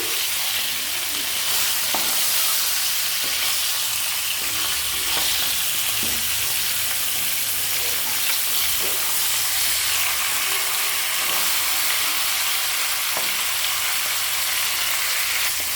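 Salt-and-turmeric fish head frying in hot mustard oil, an even close sizzle running steadily, dotted with occasional light clicks and taps.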